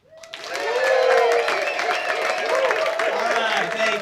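A pub show audience breaks into applause and cheering, with a sharp swell of clapping, whoops and yells that stays loud and dense throughout.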